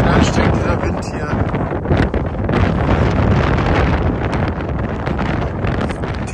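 Strong, steady wind roars and buffets the microphone on a walking trail along the Camino de Santiago in Lithuania, loud and unbroken throughout.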